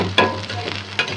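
Onion frying in oil in a pan for a dried fish curry, a short, close, steady sizzle broken by two brief bursts as the pan is stirred.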